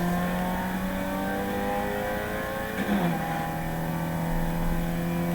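Sustained car engine revving from the Fortnite video game, with a steady droning exhaust note and a brief burst near the middle as exhaust fire releases, loud and continuous with no talk.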